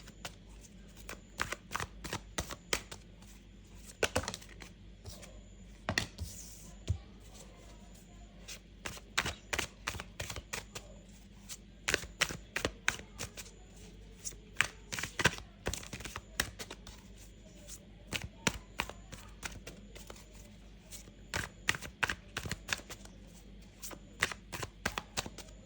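Tarot cards are shuffled by hand in repeated quick riffling bursts, each a rapid flutter of snapping card edges, recurring steadily through a quiet room without speech.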